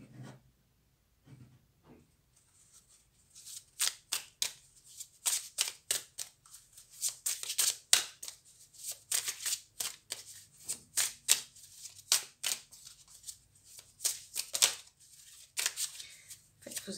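Astrology cards are shuffled by hand in a series of crisp riffling and flicking bursts, irregular in rhythm, close and fairly quiet, with long stretches of continuous shuffling and no talking.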